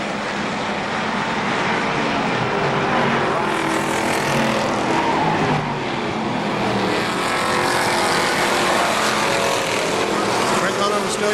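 Race cars lapping the KilKare Speedway track: a loud, continuous roar of engines, dense and unbroken, with a commentator talking over it.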